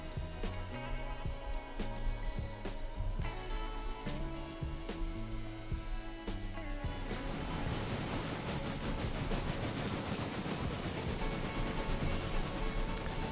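A maintenance of way train runs in the railroad game Railroader, with a rhythmic clatter and low rumble that builds into a dense, steady rolling roar in the second half.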